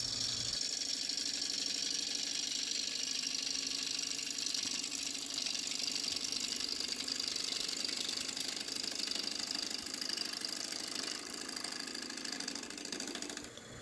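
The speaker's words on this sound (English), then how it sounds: "I'm using a 1/2 inch spindle gouge here to rough it down to round." Wood lathe spinning a spalted maple bowl blank while a half-inch spindle gouge roughs it round, a continuous motor hum with a steady scraping, chattering cut throughout, loud and close, with no voices.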